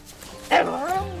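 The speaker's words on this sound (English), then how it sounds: "Cute dog." A mostly blue heeler mutt dog in the Far Cry 5 video game gives a single short bark that rises into a brief whine.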